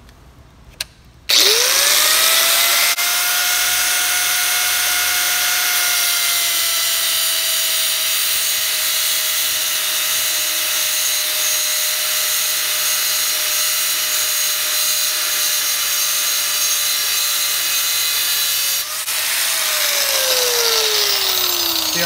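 Angle grinder cutting through steel pipe: after a click the tool spins up into a loud, steady high-pitched whine with gritty cutting noise, held for about seventeen seconds, then briefly winding down and biting again, close and alone.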